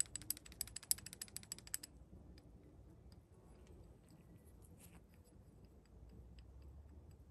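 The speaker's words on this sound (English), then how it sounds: "you can hear the play if I wriggle it" A worn valve on a 1926 Fordson F tractor is wriggled in its guide, making a quick run of faint, close ticking rattles at the start, then quiet handling sounds.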